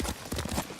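Horse hooves clop in a quick rhythmic gait while riding in the Ghost of Tsushima video game, a brief run of close, moderately quiet footfalls.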